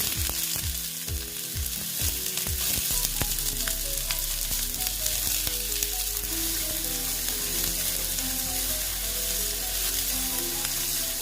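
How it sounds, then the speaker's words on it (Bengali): Chopped onion dropped into hot oil in a pan, bursting into a loud, dense sizzle after a few stirring knocks at the start, then frying steadily up close. "এখন আমি পেঁয়াজ কুচি দিয়ে দিচ্ছি"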